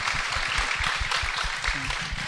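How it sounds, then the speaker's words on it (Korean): Church congregation applauding to welcome a first-time conductor, a short burst of steady, fairly loud clapping across the whole moment. "박수 한번 보내드릴까요?"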